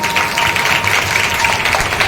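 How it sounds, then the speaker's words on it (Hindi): Audience applause at a Hindu religious discourse gathering, honoring the goddess; steady dense clapping runs throughout at moderate loudness without talk. "एक बार ताली बजा दीजिए महामाई के लिए"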